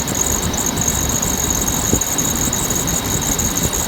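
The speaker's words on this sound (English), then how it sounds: "I didn't want to have a squeaky belt because I put a brand new belt on it" A high, continuous squeal from a brand-new engine belt rides over the steady rumble of an idling Dodge Ram truck engine, close and loud.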